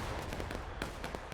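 Cannon artillery fire in an American Civil War multiplayer battle game rings out as a string of sharp, booming reports over a constant background of battle noise, with no speech.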